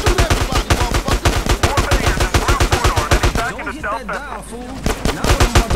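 Rapid bursts of automatic gunfire crackle through a chaotic shootout in GTA San Andreas, dense rhythmic shots loud and close, with shouting voices mixed in and a brief lull before firing resumes.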